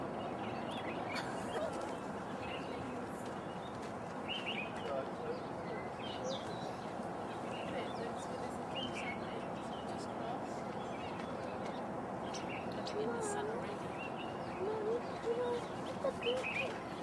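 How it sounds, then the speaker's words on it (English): A little bird calls outdoors in Namibia on the road to Augrabies, with faint, scattered chirps and coos over a steady outdoor hum while people talk nearby. "Look at this little bird."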